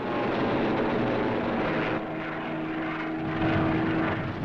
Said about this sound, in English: These thunderbolts are dive bombing.